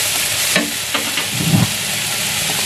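Chopped onion frying for nasi goreng mercon hisses loudly and steadily in a hot pan, with a few scraping stirs of a utensil close by and no talking.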